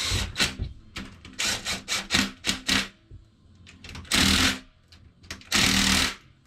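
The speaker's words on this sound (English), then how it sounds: "Then we'll snug it down with the little impact." A small impact wrench snugs down an engine bolt in a series of short rattling bursts, close and loud, with brief pauses between runs and two longer buzzing pulls at the end.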